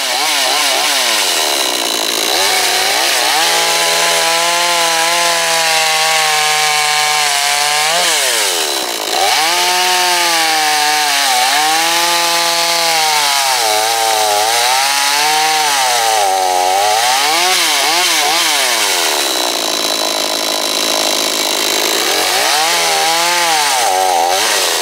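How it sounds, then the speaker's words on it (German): An Atika BKS 45-2 chainsaw cuts firewood, its engine whining loud and close in a long, continuous run, pitch rising and dipping as the chain bites into wood, with brief drops between cuts. "dann kann man mit der Kettensäge problemlos weitersägen."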